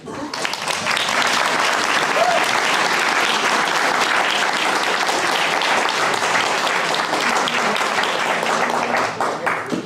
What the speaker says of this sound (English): let's give another round of applause for Casey and Chance graduating